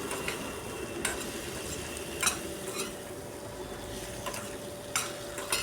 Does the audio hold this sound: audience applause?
no